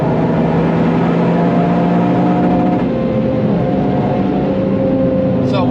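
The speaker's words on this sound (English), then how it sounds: "So we went a bit in the rev limiter there" Toyota GR Yaris engine droning steadily at high revs from inside the cabin, a sustained buzzing tone with no break for several seconds.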